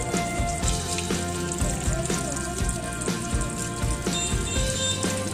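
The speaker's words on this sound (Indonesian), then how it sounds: "Dicuci pakai air mengalir," Running water rinses the radiator of a 1993 Honda Accord, a steady splashing flow with drips and irregular gurgles, close by, with a low mechanical hum underneath and no talking.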